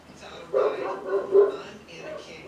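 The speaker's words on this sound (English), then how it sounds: "That's my dog barking." Several short dog barks rise over a murmur of background talk, a few yips spaced across the clip at moderate distance.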